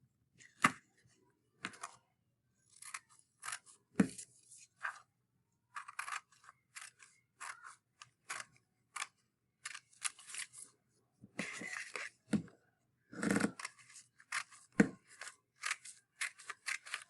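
Scissors snip strips through a sheet of paper for a paper weaving craft, in close, crisp bursts of cutting separated by short pauses, with no talking.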